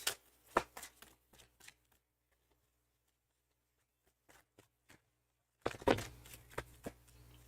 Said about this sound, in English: So when we shuffle, we get something different.